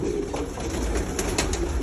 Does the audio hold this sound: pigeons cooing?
yes